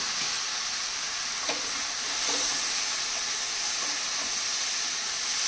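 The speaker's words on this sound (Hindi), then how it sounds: "एक दो मिनट के लिए ना हमने भूनना है" Diced potatoes and green beans sizzling and frying in a pan for a home-style aloo beans sabji, a steady close hiss with a few soft stirring clicks and no talk.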